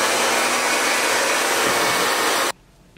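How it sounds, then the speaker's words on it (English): Hair dryer blowing on a glueless skunk stripe wig during install, a loud steady whooshing roar that runs close and alone for about two and a half seconds, then cuts off abruptly to near silence. "We're gonna blow dry again."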